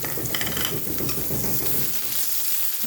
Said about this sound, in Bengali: এবার এর ভিতরগুলো পেঁয়াজগুলো দিয়ে দেবো